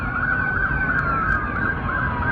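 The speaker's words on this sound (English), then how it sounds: "I can't even count the amount of cop cars that are there, and that they're all blasting their sirens." Police car sirens blast continuously and loudly, a steady wailing wall of overlapping sirens from many cop cars gathered at night near a Miami mall, with no talk.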